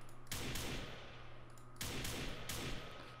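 M4A1 assault rifle fire in a Rust-style survival shooter made in Unity, several rapid automatic bursts of sharp synthetic gunshots separated by short pauses, loud and close, alone without speech.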